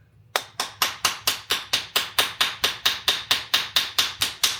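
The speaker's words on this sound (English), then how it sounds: "So we're gonna hammer enough" Steady, evenly spaced hammer blows ring out close by, about three per second, each a sharp metallic strike with a short decay, as metal is hammered for tensor finger rings.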